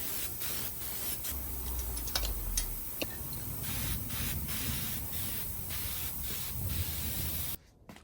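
An aerosol can of cheap spray paint sprays fuel tank straps in a steady hiss, broken by short bursts and pauses, close by, then cutting off abruptly near the end.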